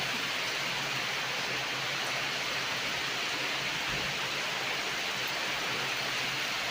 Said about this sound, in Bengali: হ্যাঁ দারুণ বৃষ্টি দেখো